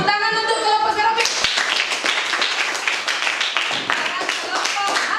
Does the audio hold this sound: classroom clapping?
yes